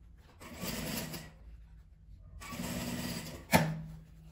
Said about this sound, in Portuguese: E venho costurando.